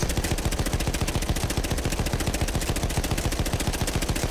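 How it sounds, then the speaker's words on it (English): Sustained rapid automatic gunfire from a video game victory celebration, a steady loud machine-gun rattle that keeps going without pause. "Literally just shooting around and around"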